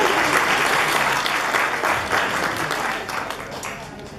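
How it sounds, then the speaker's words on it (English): Wedding guests in Jasper, Canada break into a full round of applause. Dense, steady clapping fills the room and gradually fades toward the end. "let's give that a round of applause"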